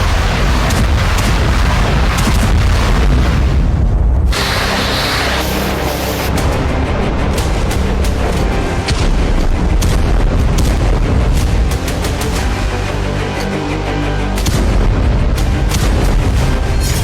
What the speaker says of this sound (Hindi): इस दौरान हवा में कई धमाके हुए और ड्रोन का मलबा रिहायशी इलाकों में गिरा।